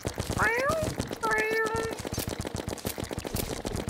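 Cartoonish cat meows from the video game Terraria, two rising-and-falling meows close together near the start, heard over dense rapid game effects and gunfire-like bursts that continue throughout.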